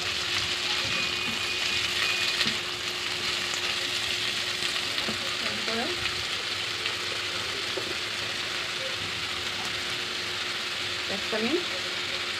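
Vegetables fry in a pan with a steady, bright sizzle that runs the whole time, with a few soft stirring knocks mixed in and no voices over it.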